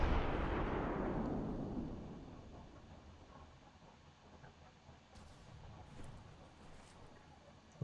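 A naval turret salvo in a warship video game, Richelieu against Blazing Emperor: a loud deep boom opens and rumbles away over several seconds, followed by faint distant thuds and crackle.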